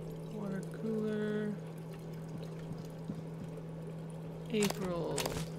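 Water pouring from a water cooler in the video game Prey, heard as a quiet trickling pour over a steady electrical hum, with brief voices in the background.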